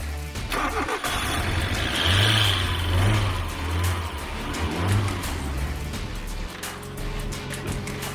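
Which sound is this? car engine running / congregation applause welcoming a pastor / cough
car engine running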